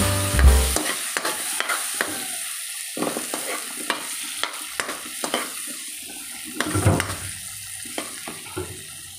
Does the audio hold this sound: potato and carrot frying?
yes